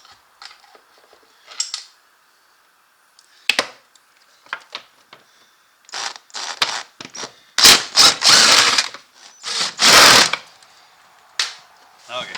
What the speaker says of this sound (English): I use the impact to take them off.